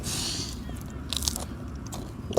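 Close crunchy bites into a fried onion fritter, crisp crackling bursts over a steady low background murmur, ending with a louder crunch.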